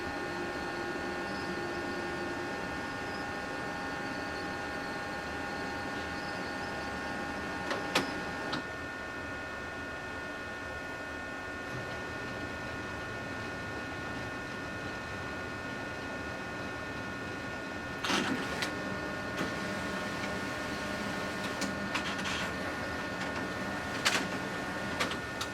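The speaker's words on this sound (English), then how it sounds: "you can see how quickly your first page has come out" A label printer running a tag or label print job: a steady mechanical whir and hum that holds throughout, with brief clicks and ticks breaking in near the start and again later.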